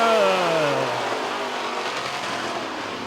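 Dirt track race cars roar around the oval at a speedway just after the green flag, engines revving loud and continuous with a falling pitch sweep as the pack accelerates, a dense steady drone of several cars.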